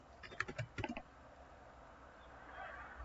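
A quick run of light, close keystrokes on a computer keyboard, about a dozen taps in the first second, then near silence with faint room hiss.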